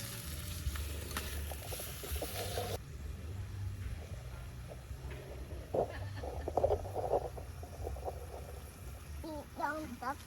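Japchae with glass noodles frying at a beach campsite, a steady sizzle and the scrape of stirring running beneath background chatter and campsite noise.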